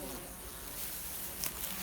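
A soft, steady buzzing of honeybees at close range at a hive entrance, continuous with no talk over it.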